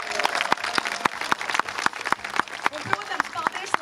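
An audience applauds at an outdoor Līgo midsummer celebration in Vandzene, a steady stream of many hands clapping with sharp individual claps standing out, fairly loud and sustained.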